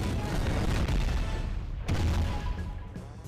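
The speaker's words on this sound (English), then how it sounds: "Some of these cannon sounds are loud." Loud booming cannon blasts from Donkey Kong Country gameplay, with two heavy bursts filling the short stretch, the second around the middle, all dense and sustained.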